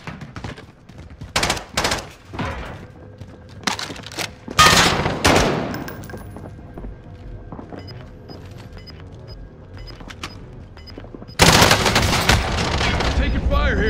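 Bursts of video game gunfire from a squad shooter, loud close automatic volleys and single shots clustered early and a heavy sustained burst near the end, with quieter crackling fire between.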